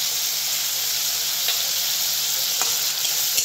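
Spice paste stirred and frying with tomato paste for a hilsa curry gives a continuous bright sizzle, with a few soft stirring scrapes breaking through; no voices.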